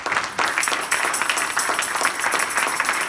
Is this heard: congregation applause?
yes